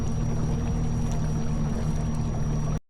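A Mako fishing boat sits on Lake Mead's Echo Bay, where a steady motor drone and water wash run loud and continuous before cutting off abruptly.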